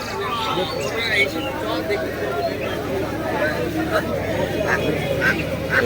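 Domestic ducks quack repeatedly at a busy animal market in Bongaon, their calls rising over a constant babble of people talking and bargaining nearby.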